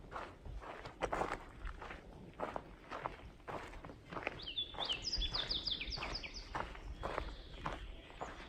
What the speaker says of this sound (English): And the birds, just listen.